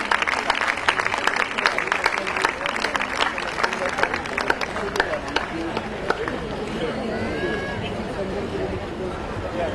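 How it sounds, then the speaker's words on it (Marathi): Audience applause at a school get-together, a dense steady patter of many hands clapping together with crowd chatter and voices mixed in throughout. "पुष्पगुच्छ देऊन जरा टाळ्या चालू राहिल्या तरी चालतील"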